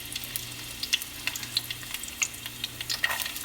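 Green chilies sizzle and crackle in hot oil in a pan for paneer fried rice, a steady close frying hiss broken by sharp pops, with no talking.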